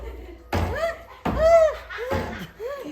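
Three heavy, dull thuds of a gate being knocked, spaced unevenly, with voices crying out and wailing over and between the blows.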